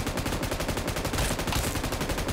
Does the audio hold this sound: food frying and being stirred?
no